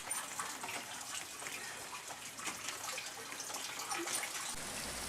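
Rainwater runs into a pair of collection barrels, a soft continuous trickle and splash with faint drips, steady and fairly quiet throughout.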